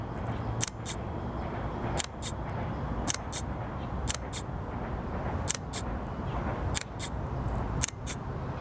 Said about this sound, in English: The shutter sound on this GF2 is loud.